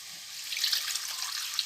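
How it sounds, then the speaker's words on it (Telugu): Water is poured over flattened rice to wash it, giving a steady, bright splashing rush that runs throughout at close range with no voices. "కొంచెం నీళ్ళు వేసేసుకొని ఇలా మొత్తం కడిగేసుకొని వెంటనే తీసేసుకోవాలి"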